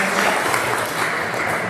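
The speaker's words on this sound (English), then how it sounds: "Let's give her a round of applause for that" Dense, steady clapping from a panel discussion audience at a women in business event, a brief burst of many hands applauding at an even, fairly loud level throughout.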